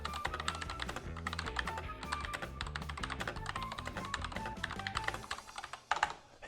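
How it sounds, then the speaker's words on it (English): Rapid typing on a Corsair K70 mechanical keyboard produces a fast, continuous clatter of key presses, heard over steady background music. "this is my Corsair K70. It sounds like this."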